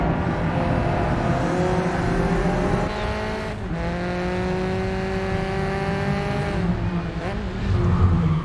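Race car engine in the Grid Legends racing game, a loud sustained roar with rising and falling revs and gear shifts, its tone changing as the view moves from outside the car into the cockpit.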